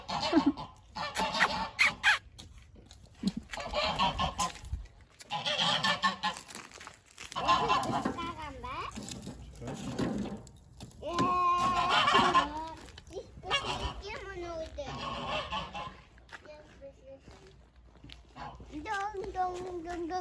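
Domestic geese honk in bursts outdoors at a farmyard, some calls near and others fainter, with a person talking at times between them.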